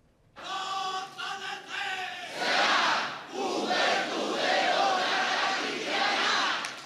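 Crowd shouting and applause at a Christian Democrat commemoration of a triumph fifty years past, opening with a chanted rhythmic cry, then swelling into loud cheering and clapping that carries through to the end.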